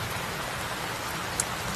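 Heavy rain pours down in a steady, dense wash of hiss that holds constant throughout, with no voices and no thunder.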